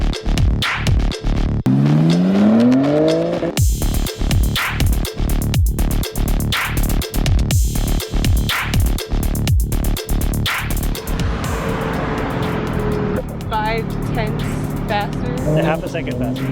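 A BMW race car laps an exclusive racetrack in a time trial, its engine loud and close, revving up and down through repeated gear shifts, with a voice talking over it.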